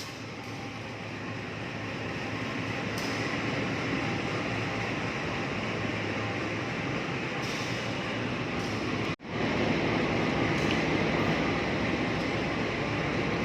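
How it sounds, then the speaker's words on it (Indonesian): The KA Sritanjung locomotive and its train rumble steadily at a railway switch while the engine prepares to reverse, a loud continuous drone with a brief abrupt dip partway through, and no talking. "itu weselnya sudah dibalik dan lokomotif persiapan mundur ya"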